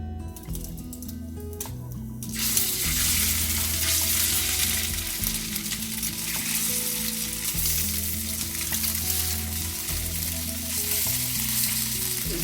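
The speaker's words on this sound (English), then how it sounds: "lightly fry the fish" Fish pieces lightly frying in oil give a loud, steady sizzle that starts suddenly and keeps crackling without a break, with low hum underneath.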